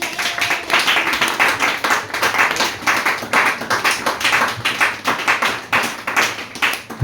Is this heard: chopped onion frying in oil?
no